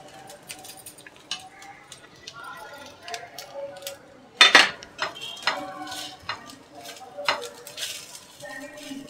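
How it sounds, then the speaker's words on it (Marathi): Sesame seeds and dried coconut roasting with reddened onion in a pan for a Malvani-style Bhogi vegetable dish, a spoon scraping and stirring in repeated light clinks over a soft background sizzle, with one louder scrape midway. "आता आपण तीळ टाकून घेऊया आणि हे सुक्कं खोबरं पण टाकूया"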